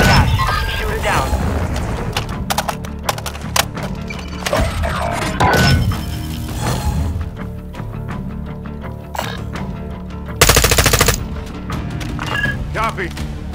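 Combat in the video game Warzone 2.0 as gunfire targets an attack helicopter: repeated sharp shots and heavy booms crack over a dense rumbling background, with one long loud burst near the end, while game voices speak.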